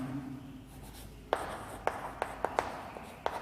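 Chalk or marker writing on a board during a physics lecture: a series of sharp, close taps and short strokes, about seven in all at irregular intervals, after a quiet start, with no talk over them.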